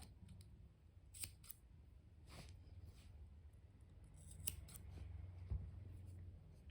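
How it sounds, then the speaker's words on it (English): Scissors snipping off a crochet yarn tail: a few faint, soft snips and clicks over a quiet background hum, close by and with no talking. "the rest of the yarn tail you can just cut it off."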